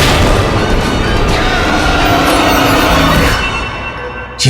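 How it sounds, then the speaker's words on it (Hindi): A loud, rumbling explosion effect from a mythological TV series fills the scene, a sustained roar and crackle that holds steady and fades slightly near the end before a sharp new burst. "अब वहां पहुंचकर विस्फोट करूंगी मैं।"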